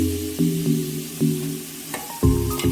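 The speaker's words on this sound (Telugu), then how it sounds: "ఇప్పుడు ఇందులోనైతే చేప పీసెస్ వేసుకోవాలి ఫ్రెండ్స్" Fish pieces for a Telugu fish curry (chepala pulusu) drop into a hot pan one after another, each landing with a thump and a bright burst of sizzling over a steady background fry, with louder splashes near the end.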